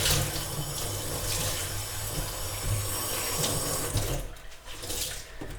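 A Marigold Cleaning Me Softly non-scratch kitchen scourer sponge soaks under a running kitchen tap, water pouring steadily and splashing close by, thinning out briefly near the end.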